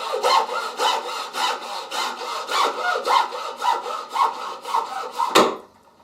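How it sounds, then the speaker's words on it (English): A hacksaw cuts PVC pipe held in a bench clamp with about a dozen steady, even back-and-forth strokes, close and rasping, ending in a sharp final snap as the cut finishes. "I'll get it started on that mark by going really slowly, and then I can complete the cut with the hacksaw"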